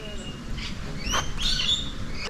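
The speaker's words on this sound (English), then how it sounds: "So they've got some peacocks and some birds in the area." Birds call in a dry park area where peacocks roam, with a few short chirps and a brighter trill rising over steady outdoor background noise.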